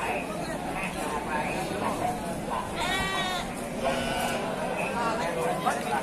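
Sheep bleating at a livestock market in Bumiayu, with a few wavering bleats rising over constant crowd chatter and nearby voices talking throughout.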